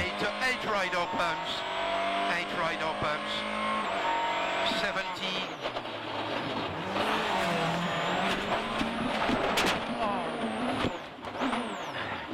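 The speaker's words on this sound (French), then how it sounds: "Un accident très sérieux, vous en conviendrez, pour Chris Atkinson." Citroën rally car driven by Chris Atkinson on a WRC special stage in 2009, engine revving and screaming as it crashes, with sharp impact bursts midway and broadcast commentary talking over it throughout.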